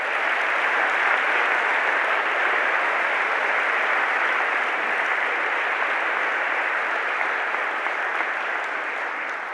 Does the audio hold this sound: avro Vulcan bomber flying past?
no